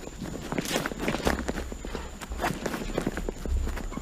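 A horse trots on a lunge line during a lunging lesson, its hooves giving a quick, even clip-clop rhythm on the ground, close by and moderately loud, with a little background noise.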